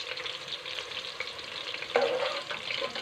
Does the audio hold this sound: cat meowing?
no